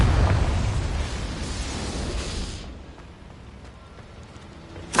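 A Confringo spell explosion in Hogwarts Legacy bursts loudly at once with a heavy boom, then rumbles and fades into a low fiery crackle, with a fresh burst at the very end.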